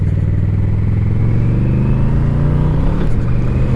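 A Yamaha VMAX motorcycle rides along, its engine a loud, steady drone with a brief shift in pitch near the end, heard close and alone without any voices.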